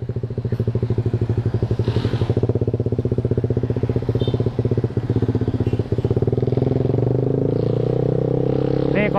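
A motorcycle riding through the streets of Bogor, its engine throbbing in a rapid, steady pulse close to the listener, with brief clatters and a smoother rise near the end as it accelerates.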